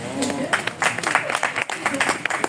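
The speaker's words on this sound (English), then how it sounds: "Let's clap for them now." An audience claps for the presenters during a live session, with a dense patter of hands that is fairly steady and moderately loud, while a voice talks over it.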